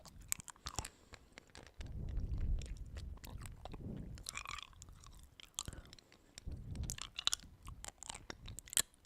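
Hard candy chewed and crunched close to a microphone in an ASMR setting, soft wet mouth sounds with irregular crunches and clicks, quiet and intimate, no talking.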